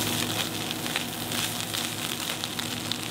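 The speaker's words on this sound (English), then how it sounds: "That's gonna help cook that and fry that cauliflower." Cauliflower frying over high heat in a pan on a burner inside a truck, a dense continuous sizzle with crackling pops, close and fairly loud.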